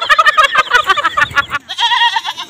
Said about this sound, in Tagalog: Ito yung kambing niya sa mga idol, oh.